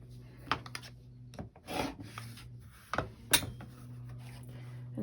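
Fabric for a wonky star quilt block is trimmed along its sides, giving a few sharp cutting scrapes and soft rubbing handling noises over a low steady hum.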